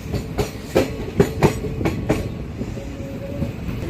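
Visakhapatnam to Machilipatnam express train running on rails, with a series of sharp, rhythmic wheel clacks close by for the first couple of seconds, then a steadier rolling rumble under a faint, thin tone.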